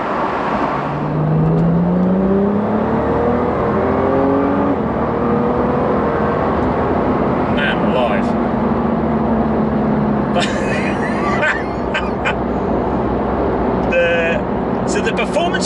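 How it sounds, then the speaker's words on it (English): A Nissan GTR with a Stage 4 Litchfield upgrade, about 675 bhp, revs inside a tunnel, its engine note rising and swelling through a couple of pulls with booming echo and some sharp crackles later on. "Yeah, it sounds good in a tunnel."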